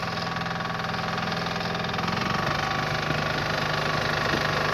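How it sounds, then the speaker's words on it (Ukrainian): A Yanmar A10 Japanese mini tractor with a 10-horsepower engine runs steadily while its rotary tiller is tested, giving a close, even, chugging drone that picks up slightly in load partway through. "Янмар А10, 10 кінських сил. Дивіться, який мототрактор з Японії. Зараз перевіряємо фрезу."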